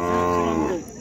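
A Khillar bull at a cattle market gives one loud, close, sustained moo with a falling tone, heard alone.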